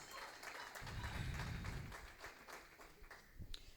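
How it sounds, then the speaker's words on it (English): An audience at the Amnesty International Zimbabwe 2024 Media Awards gives a faint, distant round of applause. Scattered claps run steadily for a few seconds, with a low rumble partway through. "Let's give a round of applause"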